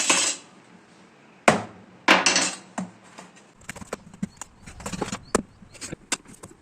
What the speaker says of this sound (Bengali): এই লাউ কাটো।